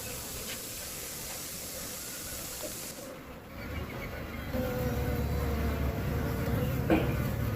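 Apis cerana bees buzz around a new hive at dusk in a soft, hissy drone, quiet at first and then thickening into a steadier, louder hum after a few seconds.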